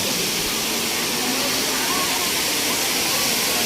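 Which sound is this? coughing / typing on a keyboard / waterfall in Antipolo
waterfall in Antipolo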